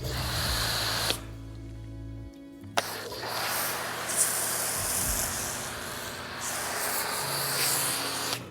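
A foam cannon sprays thick car shampoo foam onto a car in long, loud hissing bursts with brief pauses between them, close by and with no talk.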